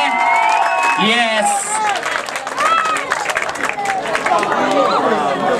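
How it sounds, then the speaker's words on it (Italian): An audience at an evening music show in Palagiano, Puglia applauds and cheers for a young band, steady clapping with shouts and whistles, a host's voice heard over it. "facciamo un applauso per i ragazzi da Ginosa"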